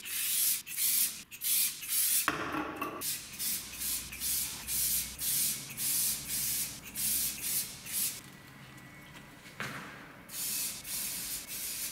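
Waterproofing impregnation spray is sprayed onto shoes in a long series of short hissing bursts, close and loud, with brief rubbing sounds between them.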